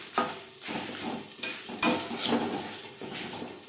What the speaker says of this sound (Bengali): তেজপাতা ভাজা হতে একেবারে সময় লাগে না তাই আমি পরে অ্যাড করলাম